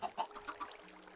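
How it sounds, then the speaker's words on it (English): Chickens clucking in the Minecraft ATM9 Skyblock game, a few short, quick clucks in the first second, fairly faint, then fading to quiet background. "we'll keep the chickens eating so we can gain more and more and more chickens"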